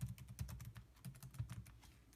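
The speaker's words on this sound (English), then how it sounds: "Now all you have to do is type in iDevice info." Quick, uneven keystrokes on a computer keyboard as a command is typed into a command prompt, soft close clicks in a short burst, no speech.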